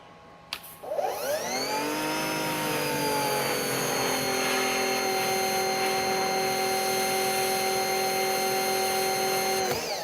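An EGO 56V battery pressure washer, rated 3200 PSI and 1.2 GPM, spins up from a quiet start and then sprays steadily in turbo mode at about 2,800 PSI. Its motor whine rises in pitch and then settles into a loud, sustained tonal hum with the hiss of the spray.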